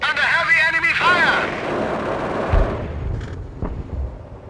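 Heavy gunfire and artillery booms in the World War II strategy game Company of Heroes, heard as rumbling blasts and scattered shots behind a soldier's shouted voice lines, fading to distant thuds.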